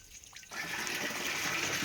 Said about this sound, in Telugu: ఇది ఇందులో 200 లీటర్ల నుంచి తీసి ఇలా వడగడుతున్నా, మీకు చూపిస్తాను.